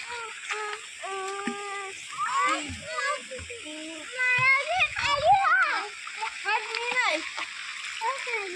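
Children playing and splashing in water at a dam in Ladghar, Konkan, with splashes and a bottle tossed into the water amid excited kids' shouting and chatter close by.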